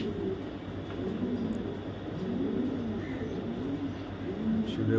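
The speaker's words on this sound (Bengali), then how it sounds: "ইরাক দু হাজার একুশের ইম্পোর্টের একটা নর কবুতর" Male racing pigeon imported from Iraq, rolling low cooing phrases repeated close up over a steady background hum, without talk.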